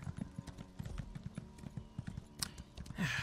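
Quick, steady clip-clop of a horse mount's hooves trotting in The Elder Scrolls Online, a continuous rhythmic clatter at moderate volume with a brief snort or whinny-like sound near the end.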